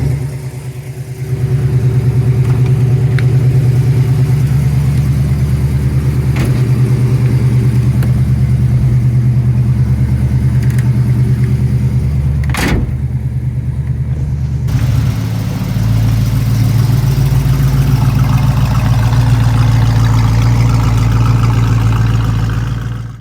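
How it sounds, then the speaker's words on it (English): A 1974 Plymouth 'Cuda on the road, its engine a loud, steady, close drone throughout, with a brief dip and shift in tone midway before it pulls strongly again. "then proceeded to take the Cuda out for a ride"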